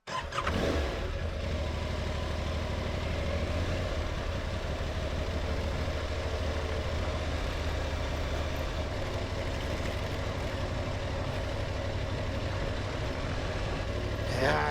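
A motorcycle on a gravel trail in northern Spain, with a steady engine drone and rumble running close and continuous throughout, no talk.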